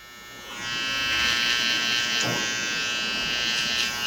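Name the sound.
electric hair clippers tapering hair around the ears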